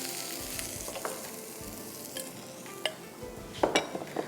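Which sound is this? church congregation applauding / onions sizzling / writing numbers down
onions sizzling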